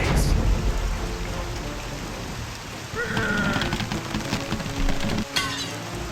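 Steady rain pours in The Cursed Crusade game, a dense loud hiss with low rumbling underneath and some clanking game effects layered over it.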